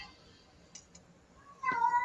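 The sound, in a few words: cat meowing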